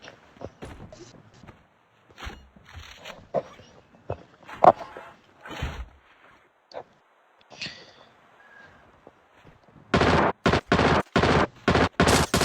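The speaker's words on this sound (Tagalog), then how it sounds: "Meron bumabaril na." Gunfire in a Call of Duty Mobile battle royale match: scattered single shots and footsteps at first, then a loud rapid burst of automatic fire near the end.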